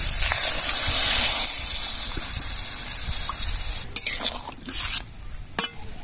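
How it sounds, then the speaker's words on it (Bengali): Water gushing into a pan of shrimp curry being cooked, a steady pour and sizzle at first, followed by stirring and a few clinks near the end, close and fairly loud. "দিয়ে দেবো জল।"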